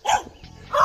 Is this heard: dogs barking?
yes